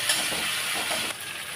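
Hilsa fish frying in a pan for ilish bhorta with dried chilli, a dense continuous hiss and sizzle filling the short stretch, with a slight shift in texture as the fish is stirred.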